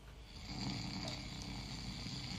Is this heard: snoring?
yes